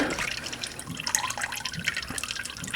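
Motor oil drips steadily from a loosened oil filter on a Ford Focus RS/ST during an oil change, a close, continuous trickle with scattered small droplet splashes and no talking.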